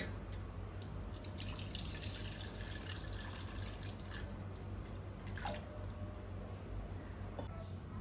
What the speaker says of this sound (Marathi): इथे मी पातीला घेतलेलं आहे तर त्यामध्ये आपण पाणी ओतूया